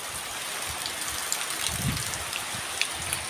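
Steady rain falls during stormy, windy weather in the Philippines, a dense hiss of drops with a few louder splashes and gusts, fairly close and unbroken with no talk.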